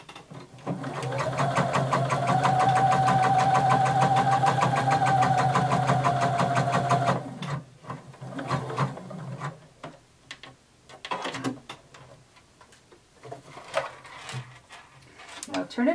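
Home sewing machine running a long basting stitch along a skirt seam for about seven seconds, steady and close, followed by scattered clicks and handling of fabric.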